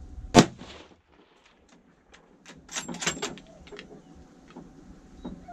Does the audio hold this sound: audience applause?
no